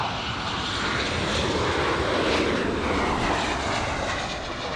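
An American Airlines jet roars loudly nearby, a dense, continuous engine rumble that holds steady for a few seconds without any talk.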